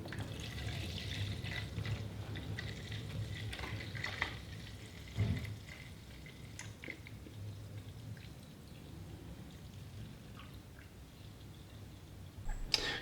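Homemade quick detailer liquid being poured slowly into a jug, a soft continuous trickle and splash with a few knocks and clinks, fairly quiet and close.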